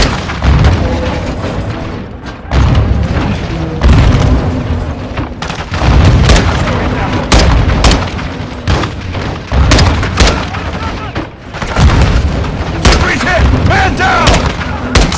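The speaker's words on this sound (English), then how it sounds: "They're launching grenades!" Grenade explosions in the video game Call of Duty: Modern Warfare II boom again and again during a firefight, about every second or two, loud and close over constant gunfire and battle noise.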